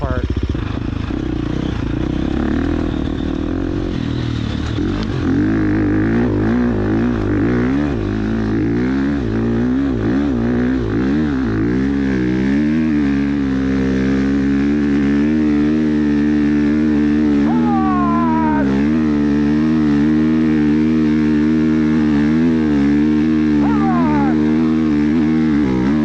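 A 2022 Husqvarna FX 350 dirt bike climbing a steep hill, its engine loud and close throughout, revving hard with rising and falling pitch as the rider works the gears, with no talking over it.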